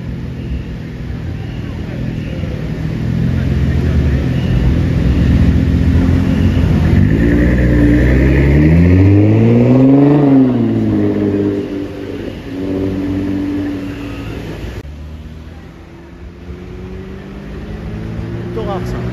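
A Nissan GT-R drives past on a Monaco street, its engine swelling to a loud, rising and falling pass-by before fading into traffic rumble. Someone talks over it in the foreground.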